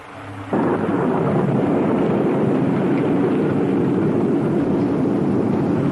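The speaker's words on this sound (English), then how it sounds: "It sounded like thunder" A deep, sustained rumble of thunder rolls in abruptly and holds steady and loud, broad and roaring like a storm overhead.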